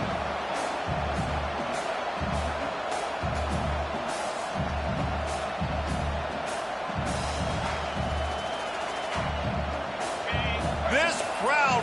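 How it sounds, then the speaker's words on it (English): Loud, dense stadium crowd roars and cheers throughout a college football game between Texas and Kansas, building during a third-down run and ahead of a fourth-down play, with rhythmic stomping and a commentator talking over the noise. "This crowd busting the decibel meter and trying to will a 4th down stop"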